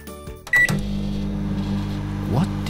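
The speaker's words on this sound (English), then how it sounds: "It's a microwave." A microwave oven hums steadily after a brief click and beep at the start, its low droning motor tone continuing evenly with a slight rattle near the end.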